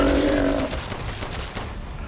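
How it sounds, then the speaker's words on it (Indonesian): Burst of gunfire from a firefight in the survival-horror game Resident Evil Village, loud and dense at first and fading into a rumbling, noisy tail, with no talking over it. "tembak dulu yang di situ, tembak dulu"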